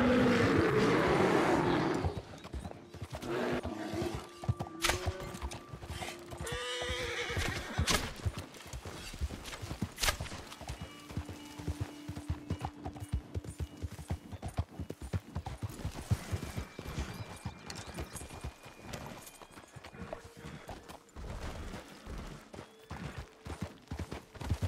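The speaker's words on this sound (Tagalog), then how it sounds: "Ginoong Romano, ang iyong kabayo ay pagod na." A horse whinnies and its hooves clip-clop amid a game-like outdoor scene, with busy layered background noise and repeated sharp clicks running throughout at moderate loudness.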